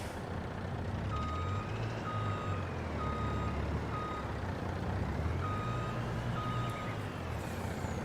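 A Volvo truck in Farming Simulator 22 reverses, its backup alarm giving a steady series of evenly spaced beeps over a loud droning engine, with a short pause partway through before the beeping resumes.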